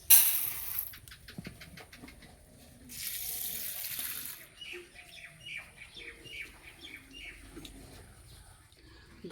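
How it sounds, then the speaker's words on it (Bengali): Red lentils are rinsed by hand in water in a kitchen, with a burst of running water at the start, splashing and sloshing, another spell of pouring water, then scattered close swishing and clinks. "মুসুরি ডালটা পরিষ্কার করে ধুয়ে নেব।"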